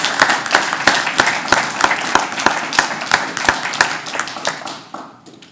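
An audience at a city council meeting applauds an award recipient, loud rhythmic clapping with sharp individual claps, steady for several seconds before fading out near the end.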